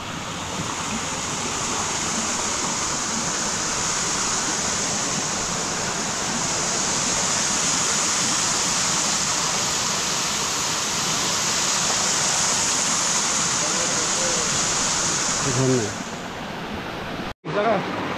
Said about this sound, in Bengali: এটা ঝর্ণাটা এটা।